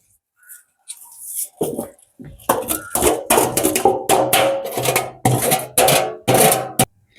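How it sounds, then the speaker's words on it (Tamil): Fried vegetables tossed into a pot of noodles, with a series of close, brisk scraping and clinking strokes of a utensil against the cookware, repeated rhythmically and loudly with short pauses. "இப்போ வந்து நாங்கள் நூடுல்ஸுக்குள்ளே பொறிச்சு வச்ச பொரியல் எல்லாம் போட்டுக்கொள்ளுவோம்"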